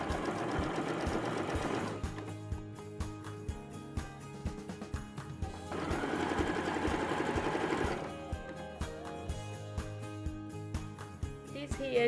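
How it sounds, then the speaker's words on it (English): A sewing machine stitches around the edge of a man's shirt being remade into a wrap top, running in steady whirring bursts with a pause between them and light clicks while the fabric is repositioned. "now I'm going to sew all around the edge of the shirt as well"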